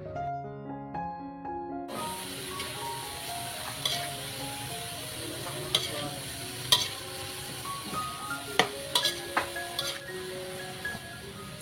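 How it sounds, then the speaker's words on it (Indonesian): Boiled carrots are sautéed in a pan with browned garlic and shallots, giving a steady close sizzle and frying hiss with occasional scraping stirs, beginning after a brief quiet moment with faint music underneath. "bawang putih dan bawang merahnya sudah berwarna kecoklatan, sekarang kita masukkan wortel"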